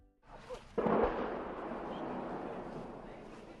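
A single deep boom of artillery fire near Soledar rolls out and lingers in a long rumbling decay, muffled as if from far away.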